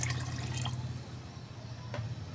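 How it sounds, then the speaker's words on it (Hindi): Water poured into a cooking pot of Kashmiri dal lentils, a soft running trickle with a couple of distinct drips over a low steady hum, fairly faint. "तो अब इसके अंदर हम पानी ऐड कर देंगे"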